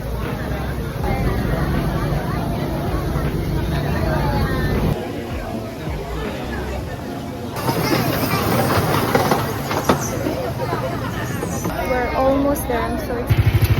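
Scenic train at Wulai rolling along its rails, a steady rumbling ride with a continuous mechanical drone and faint rhythmic clatter, with people chattering and murmuring around it throughout.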